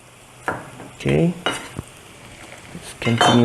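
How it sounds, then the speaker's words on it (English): Ginger and aromatics sizzle in hot oil as the base for nasi minyak, with bursts of stirring and scraping in the pan, loud and close, no voices. "let's continue frying this."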